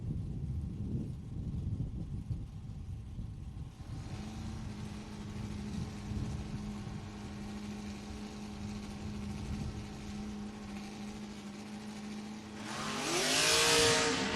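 Camaro drag cars, including a COPO, at a footbrake bracket racing event, engines droning steadily at a distance before a louder, rising high-pitched rev near the end.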